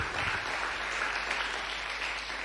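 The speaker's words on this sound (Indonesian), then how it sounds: "Kasih tepuk tangan yang paling meriah." Church congregation applauding at a sermon's call to clap, a steady broadband wash of many hands at moderate level with no voices over it.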